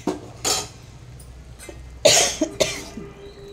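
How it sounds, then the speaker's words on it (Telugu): Someone coughs while cooking a fish curry, with a few close, forceful coughs spaced across a few seconds, the last ones in a quick cluster, alongside faint kitchen background noise. "దగ్గు వస్తుంది ఇదంతా."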